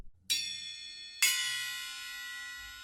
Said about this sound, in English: You have bells,